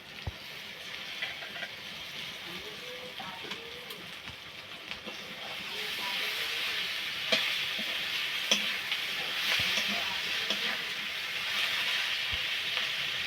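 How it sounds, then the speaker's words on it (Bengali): Spices fry with chopped tomato in a pan, a soft sizzle that grows fuller and louder midway, with occasional ladle taps and clicks close by, no talking over it. "এখন টমেটো কুচি দিয়ে দেবো।"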